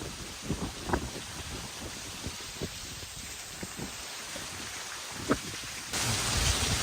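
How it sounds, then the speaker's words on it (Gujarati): Heavy monsoon downpour over a village with farm fields and ponds, a steady close hiss of rain with scattered louder drops and low rumbles, growing denser near the end. "એટલો વરસાદ અત્યારે પડે છે."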